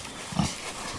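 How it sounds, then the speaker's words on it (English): Pigs on a farm give low grunts, with a couple of short close snorts over a steady background hum. "This is the last group of pigs that will ever be on the farm."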